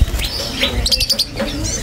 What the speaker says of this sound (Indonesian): Ini ada burung Lopert ya, yang biola green ya.